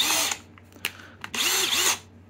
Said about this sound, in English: as the chuck does its thing, like a normal drill